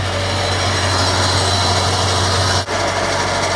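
A truck's engine driving a PTO pump, running rough: a loud, steady drone with a low hum runs without a break, briefly dipping for a moment near the end; no voices.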